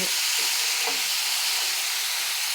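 Onion frying in oil, a loud close hissing sizzle that stays dense and even throughout, with a couple of brief stirring scrapes at the start.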